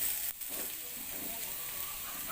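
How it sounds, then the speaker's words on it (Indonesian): Shallots and garlic sizzle in hot oil while being sautéed, a steady close crackling hiss with no pause, fairly quiet. "Tumis bawang merah dan bawang putih hingga layu dan aromanya harum"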